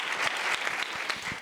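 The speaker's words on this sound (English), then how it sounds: "give the panel a round of applause" A seated audience claps for a discussion panel, a steady close patter of many hands that runs throughout with no voices over it.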